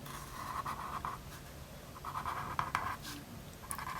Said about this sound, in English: A little shading technique.